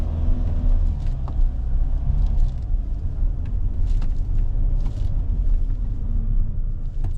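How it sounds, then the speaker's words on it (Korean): A Kia Carnival minivan reverses on a urethane-coated floor, its low engine rumble steady and close throughout, with faint light clicks and knocks above it. "여기서도 다시 한번 후진 한번 해보고"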